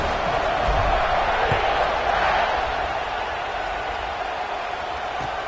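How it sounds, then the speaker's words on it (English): A football stadium crowd buzzes in a steady, broad roar after a score as the teams line up for the kickoff, filling the whole stretch without clear cheers or claps standing out. "this crowd is buzzing after that last score"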